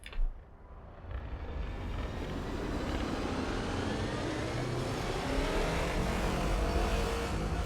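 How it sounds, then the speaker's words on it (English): Engine of the Imperial Courier spaceship accelerating in the game Elite: Dangerous, a deep roaring thrust that swells quickly and then holds as a broad, steady rumble and whoosh, loud and close with no voices. "pay attention to the engine sounds as well."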